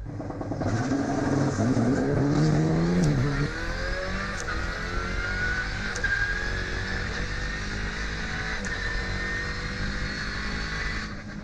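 An Alpine rally car sets off on a shakedown run at the Critérium des Cévennes 2022, its engine revving hard up through the gears, then settling into a steady, fading drone as it pulls away.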